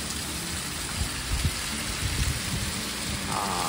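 Steady rain falls throughout as a broad, even hiss, with soft low rumbles that may be distant thunder.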